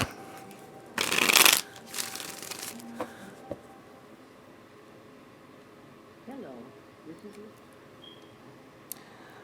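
A deck of tarot cards riffled in one loud, close burst, followed by lighter card handling, slides and taps in a quiet room.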